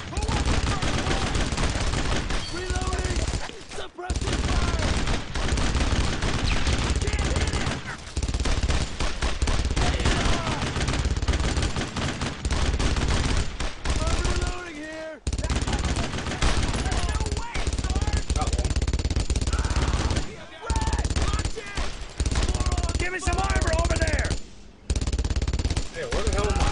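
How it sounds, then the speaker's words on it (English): Heavy, sustained gunfire from the World War II shooter Brothers In Arms: Road to Hill 30, with loud automatic bursts and battle noise filling the whole stretch, broken by a few brief gaps, while voices shout over the combat. "Heavy fire on that enemy!"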